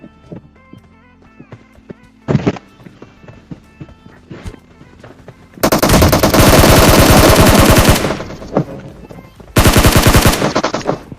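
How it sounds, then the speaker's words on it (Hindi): Gunfire in a shooter video game: bursts of rapid automatic fire, loud and sustained for a couple of seconds, then a pause and another long burst, with scattered single shots and footsteps between them and no talk. "तभी ये बंदा हमारे ऊपर गोली चलाता है।"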